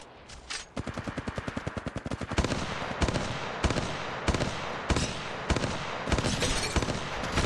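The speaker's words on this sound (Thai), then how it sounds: "ทางนะฉันกำลังยิงใส่ ยิงใส่" Automatic weapon fire in the mobile shooter Apex Legends Mobile: a rapid burst of evenly spaced shots, then heavier bursts repeating about every half second, loud and close, with no voices.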